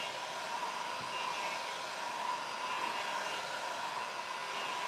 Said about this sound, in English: you move your heat gun real fast or your blow dryer